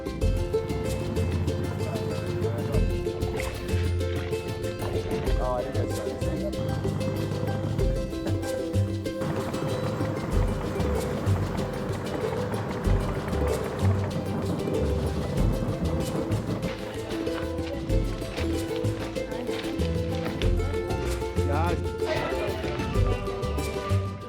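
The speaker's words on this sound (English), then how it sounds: "set out on a 3-hour boat journey across Lake Titicaca to Amantani Island" A steady engine drone from a boat underway on Lake Titicaca, Peru, continuous and fairly loud, with water noise beneath and no speech.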